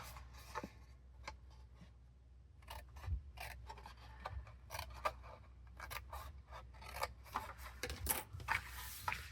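Scissors snip through cardstock to remove a scored strip for a paper craft box, producing a series of quiet, close, crisp cuts and paper rustles in an otherwise still room.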